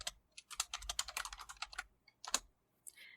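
Rapid bursts of computer keyboard typing while entering Python code in a console, crisp close keystrokes in a quick run, a short pause, then a few more taps, with no talk.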